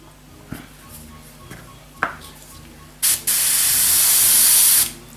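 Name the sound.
paint spraying under a 7mm Heljan VAA model wagon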